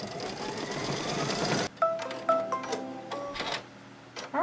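Embroidery machine stitching a backing tack-down line for a quilted wall hanging: a dense mechanical whir that cuts off abruptly, then faint ticks and short tonal beeps in the quiet that follows.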